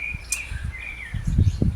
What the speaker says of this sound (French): Les oiseaux chantent, hein, c'est merveilleux, n'est-ce pas?